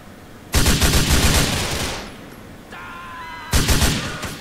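Sniper rifle fire in Grand Theft Auto IV, two loud, sharp reports with long rumbling tails about three seconds apart, between them a brief electronic tone, no talk.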